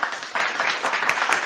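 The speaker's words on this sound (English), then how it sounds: "I applaud again" An audience at a summit claps in a brief, lively burst of applause, with dense overlapping hand claps at moderate loudness.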